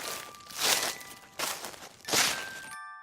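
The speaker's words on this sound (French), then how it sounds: "Les feuilles mortes crissaient et craquaient sous leurs pas." Footsteps crunch through dry dead autumn leaves as a storybook sound effect, three loud crackling steps in a slow even rhythm, with no voice over them.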